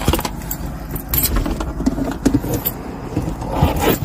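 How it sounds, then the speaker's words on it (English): Keys jangle faintly during a roadside traffic stop, small metallic clinks scattered over the steady hum of a nearby idling car. "Got the keys out."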